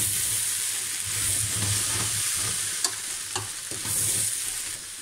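Potatoes being stir-fried with mushrooms added, a steady loud sizzle and hiss with scraping stir strokes and occasional clicks of the utensil against the pan.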